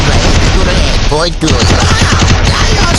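Rapid UMP gunfire from a mobile shooter game rattles continuously in a dense, loud fusillade, with a brief pause partway through, while a voice talks over it.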